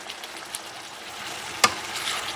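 Meat and tomato cook in a pan for a Puerto Rican pastelón, giving a soft steady sizzle with one faint clink near the middle.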